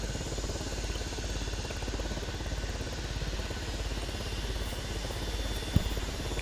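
A helicopter in a roleplay video game drones steadily with a fast, even rotor thump, holding near and constant with one brief knock near the end.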